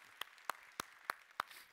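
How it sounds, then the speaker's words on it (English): Faint, slow handclaps ring out in a church, five distinct claps spaced evenly about a third of a second apart, quiet and sparse against a hushed room. "clap for them"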